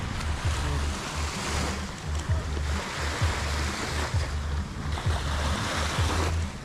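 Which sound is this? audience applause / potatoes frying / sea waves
sea waves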